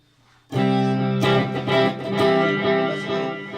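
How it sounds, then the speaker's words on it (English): An electric guitar plays through a Toth Blues Cube amplifier with delay switched on and reverb off, ringing out loud and sustained after a brief quiet start, its chords and notes trailing into echoed repeats. "I'm going to take the reverb off and kick on the delay"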